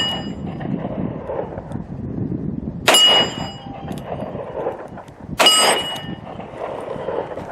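A Ruger LCR .38 Special revolver fired at a steel plate outdoors: two sharp shots about two and a half seconds apart, each with a bright ringing clang from the struck steel over a low background rumble.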